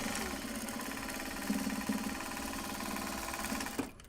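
A sewing machine top stitching project bags made from Japanese fabric, running in a steady fast stitching drone with a brief speed-up partway and a stop near the end.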